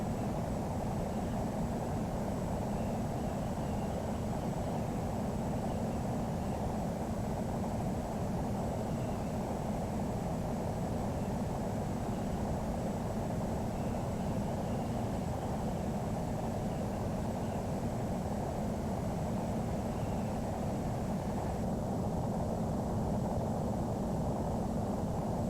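In Flight Simulator X, a jet airliner's engines hold a steady, loud, continuous roar while climbing after takeoff, with a dense rushing hiss and no change in pitch and no talking.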